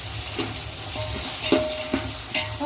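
Ginger, curry leaves and green chillies frying in a pan for coconut milk rice, a steady close sizzle with a few louder stirring scrapes and spatula knocks, no talking.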